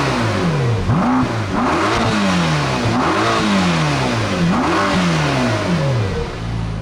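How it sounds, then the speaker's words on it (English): A 2021 Mercedes-AMG GT Black Series with its sport exhaust open revs hard several times in a row, each rising howl dropping back before the next, loud and close throughout. "Take a listen to this car with its sport exhaust turned on."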